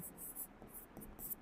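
Chalk or marker scratches across a board in a physics classroom, producing faint, soft strokes in short rhythmic bursts.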